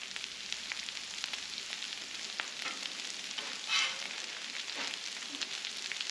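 Hashbrowns sizzle on a Blackstone griddle, a soft, steady frying hiss with faint scrapes as they are flipped, fairly quiet and close.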